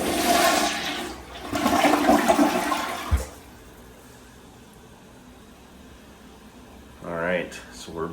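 A toilet flushes with an ACTIVE automatic blue bowl cleaner fitted, a loud rushing surge of water for about three seconds, then a quiet refill hiss; a voice speaks briefly near the end.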